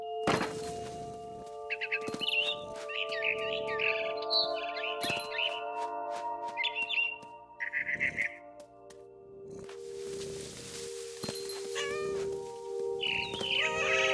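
A barn swallow in the game What Remains of Edith Finch chirps in repeated bright bursts over a steady tonal hum, with short pauses between the calls.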